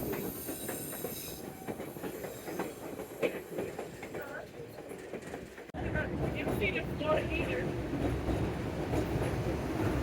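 White Pass Scenic Railway train in Skagway, Alaska: steady rolling rumble of railcars with faint clickety-clack and wheel noise throughout, growing louder and fuller partway through, with voices murmuring in the background.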